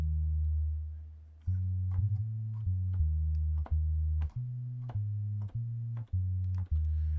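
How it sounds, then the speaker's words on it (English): A bass synth preset in Studio One plays a run of about ten sustained low notes that step up and down in pitch, each cut off sharply before the next, loud and alone. "I don't want that bass sound. I don't like that sound."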